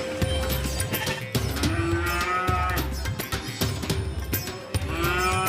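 Cattle moo repeatedly in long, low calls, several animals overlapping amid a steady crowd murmur and clatter of a busy cattle and goat market in Siyono, Indonesia.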